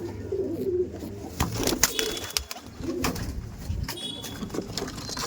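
Pigeons coo and flutter as a pair of Punjabi pigeons is released at a Dankuni dealer's, with busy wingbeats and cooing close by over steady outdoor background noise.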